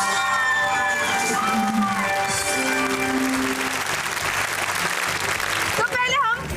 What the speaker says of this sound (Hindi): बहुत सही तालियां